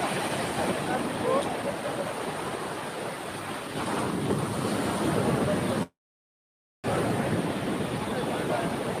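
Sea waves surge continuously on the shore at Odisha near the Jagannath temple, a steady broadband roar of surf mixed with wind buffeting the microphone, loud and unbroken apart from a brief dropout.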